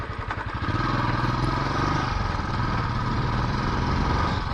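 Motorcycle engine idling with a steady, close rumble and clatter, then cutting out as the bike switches off on a night ride toward Theni.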